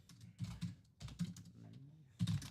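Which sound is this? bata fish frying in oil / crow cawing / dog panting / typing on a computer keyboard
typing on a computer keyboard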